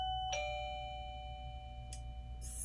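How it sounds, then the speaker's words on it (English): A single front door doorbell chime rings out clearly, its bright tone sustaining and fading against a low background hum. "this is how the front door sounds"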